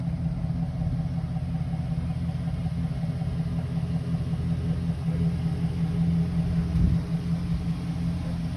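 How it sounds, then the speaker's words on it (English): 2009 Chevrolet Silverado 1500 pickup truck engine idling, a steady low rumble with a constant hum, close and moderately loud, alone without speech. "The vehicle is running."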